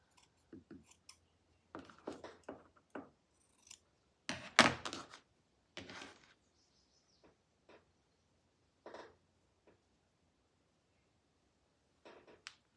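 Scissors snipping through fabric ties in several short, crisp bursts of cutting with quiet pauses between, close and fairly faint, plus a few soft handling clicks.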